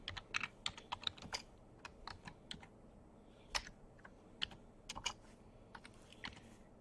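Quick bursts of keyboard typing, irregular clicks and clacks close up, with short pauses between flurries of keystrokes.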